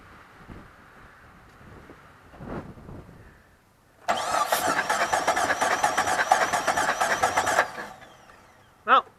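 A Jeep WJ engine cranks with the starter during a compression test, a loud rhythmic churning burst lasting a few seconds after quieter background sounds, followed by a short sharp noise.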